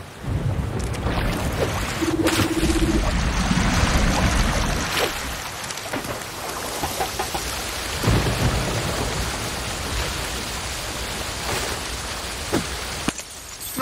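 Rain and thunder in the video game Rush: A Disney Pixar Adventure: steady heavy rainfall with deep thunder rumbling throughout, no voices.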